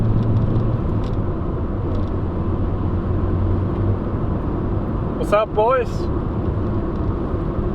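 Inside a Mitsubishi Lancer while driving, a loud constant low rumble of road and engine noise fills the cabin, and someone briefly speaks partway through.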